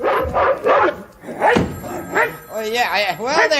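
A voice imitates a dog barking and yipping in several loud, close bursts, with bits of speech in between.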